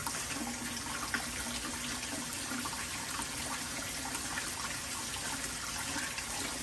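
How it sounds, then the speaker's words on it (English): Cold tap water pours steadily over cooked egg noodle dumplings in a colander, a constant close hissing, splashing rush without pauses. "you want to take cold water and rinse it off"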